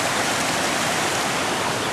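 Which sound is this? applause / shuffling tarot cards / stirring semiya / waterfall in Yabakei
waterfall in Yabakei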